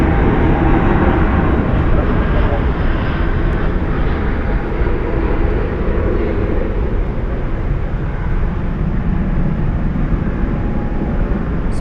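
Airliner landing at Dallas/Fort Worth at night with spoilers up and thrust reversers deployed, a loud continuous roar of reverse thrust held steady for several seconds.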